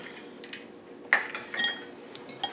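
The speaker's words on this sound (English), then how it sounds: "Got an egg, one of our farm fresh eggs. Okay, I'm just going to crack it." A farm fresh egg is cracked against the rim of a bowl, giving one sharp close tap followed by a few lighter clicks and faint shell sounds in a quiet kitchen.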